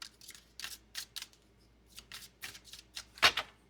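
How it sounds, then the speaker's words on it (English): A deck of tarot cards is shuffled by hand in short, crisp riffling bursts, about a dozen rustling flutters close by, the last one the loudest. "Let's get it in there and give it a shuffle."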